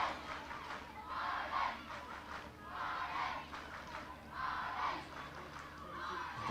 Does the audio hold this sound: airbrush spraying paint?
no